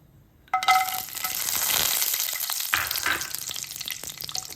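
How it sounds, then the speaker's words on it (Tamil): Cashew nuts hit hot ghee in a pan with a sudden sizzle that holds as a steady frying hiss, broken by light clinks and stirring scrapes. "நெய் விட்டுக்கலாம் முந்திரி பருப்பை வறுத்து எடுத்துக்கலாம்"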